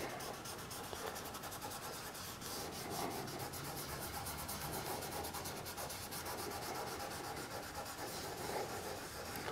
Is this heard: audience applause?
no